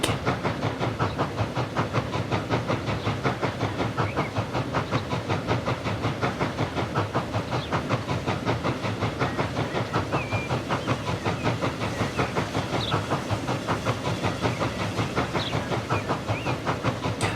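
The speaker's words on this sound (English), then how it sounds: "There's the train waiting to head back." Green British saddle tank steam locomotive in Transport Fever 2, steady rhythmic chuffing and hiss with clickety-clack running throughout, continuous and fairly loud with no voices.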